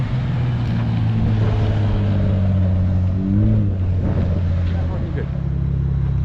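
A Cadillac ATS-V twin-turbo V6 exhaust hums at a loud, steady drone with a brief surge in pitch partway through, and voices are heard faintly beneath the engine noise.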